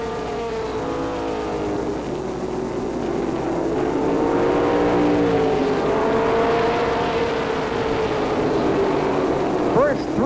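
Pro stock race cars roar together around the turns at Lee Speedway in 1989, a loud, sustained, layered engine drone with rising and falling pitch as the pack passes, under an announcer's steady commentary.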